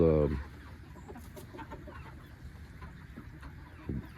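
Soft, scattered clucking from chickens in the background, with a short louder vocal burst at the start and another near the end.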